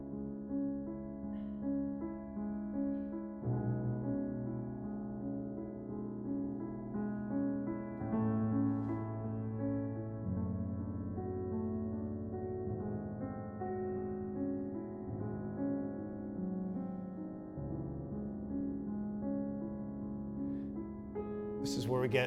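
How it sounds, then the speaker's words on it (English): Beethoven sonata played on a modern piano with the sustain pedal held down, chords ringing into one another in a continuous, resonant wash for over twenty seconds, steady and fairly soft with no talking. "So if I do literally, this is famous, what Beethoven asked, which is just leave the pedal down."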